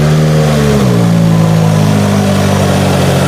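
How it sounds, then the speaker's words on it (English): A 2017 Subaru Forester engine catches and settles into a steady idle, the pitch of its loud, close hum dropping in the first second and then holding even and continuous. "the car started up right away, no issues"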